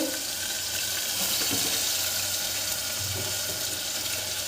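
Chopped cabbage and potatoes are washed in a water-filled kitchen vessel, with continuous close splashing and running-water noise that stays loud and steady for the whole stretch.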